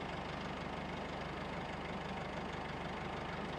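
A Mercedes-Benz 413 CDI Sprinter van's diesel engine idles with a steady, even low rumble and faint rhythmic knock, heard close and alone at low volume.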